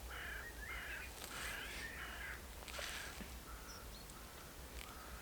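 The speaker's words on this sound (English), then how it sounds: "The birds just going nuts and all." Crows cawing noisily outdoors on a hazy, frosty morning, repeated harsh calls coming in bursts at moderate distance over a steady low rumble.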